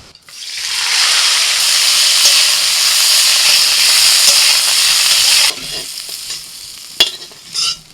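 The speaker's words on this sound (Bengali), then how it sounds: "এবার ফুলকপি ভেজে নেব।" Cauliflower frying in hot oil in a wok gives a loud, dense sizzle for several seconds, then drops off sharply, leaving softer crackling and a couple of stirring knocks near the end.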